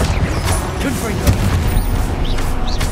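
Confringo blasting spells explode in Hogwarts Legacy combat, with repeated booming bursts over a dense, continuous battle din while a voice calls out.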